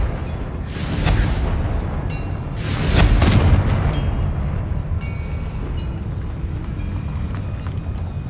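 Confringo blasting spells cast in Hogwarts Legacy, two heavy booming blasts with rumbling, crackling tails over a steady background hum, the second burst louder and longer.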